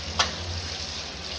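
Spice powder frying and being stirred in a pan for tomato gojju gives a soft, steady sizzle under a single sharp scrape of the spoon near the start.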